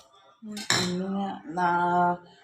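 Metal cutlery and dishes clinking while fish is cut in a home kitchen, a few sharp ringing clanks with lingering tonal resonance, close and clear with no voices.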